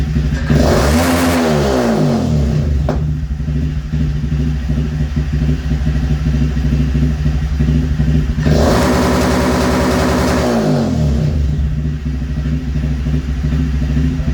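A Honda Grom motorcycle with an Aodonly Racing low side-mount loop exhaust holds on a 2-step launch limiter, giving two long, loud revs with crackling limiter stutter over a continuous close idle, then dropping back.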